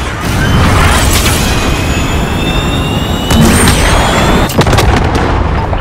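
Airstrike explosions from a video game's cluster strike and cruise missile boom loudly and continuously, with deep rumbling blasts layered over jet-like whooshes and sharp cracks near the end.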